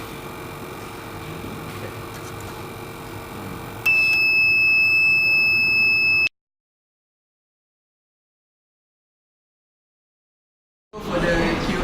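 A safety alarm system buzzer sounds loudly in a steady, sustained tone over background noise for about two seconds, then cuts off into silence before room noise returns.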